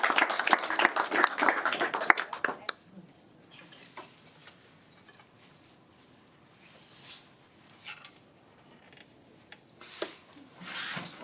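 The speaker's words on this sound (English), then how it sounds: "One last round of applause for all of you." A school board meeting closes a presentation with a brief burst of applause from the room that fades after a couple of seconds into quiet shuffling and faint scattered noises.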